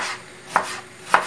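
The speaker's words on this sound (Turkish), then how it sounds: "Önce soğanları doğramakla başlayalım." A knife chops onions on a board in two crisp, evenly spaced cuts, close and clear with quiet background otherwise.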